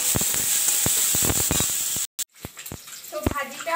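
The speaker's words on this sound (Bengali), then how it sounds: "এবার এটাকে খুব ভালো করে ভাজা ভাজা করলেই হয়ে যাবে সবজি ভাজা" Vegetables sizzle and hiss in a pan with salt and turmeric, a steady frying noise broken by sharp stirring clatters, then a brief gap before softer sizzling and scraping resume.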